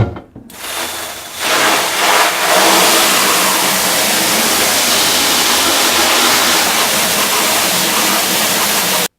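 Strong water spray rinses off a wheel at a car wash, a steady loud hiss and splatter running nearly continuously after a brief quiet start.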